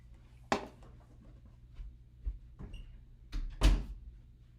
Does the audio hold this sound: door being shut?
yes